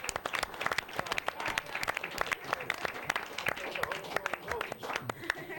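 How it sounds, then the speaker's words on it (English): A studio audience at a midnight talk show claps loudly and steadily for a guest, dense rapid handclaps throughout with scattered voices mixed in. "Could we have a round of applause for a warm-hearted applause for my Uncle Pete?"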